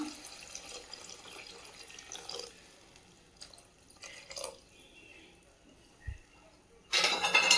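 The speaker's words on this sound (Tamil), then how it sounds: "சூப்புக்கு தேவையான அளவுக்கு தண்ணி ஆட் பண்ணிக்கலாம்." Quiet kitchen clatter and a few small knocks, then a short burst of water pouring loudly into a pot of black nightshade greens soup at the end.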